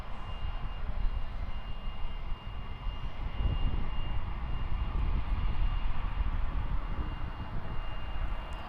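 A Boeing 737-700 jet roars at Perth Airport, a broad, rumbling engine noise heard from a distance, swelling slightly in the middle and holding steady throughout, with no voices.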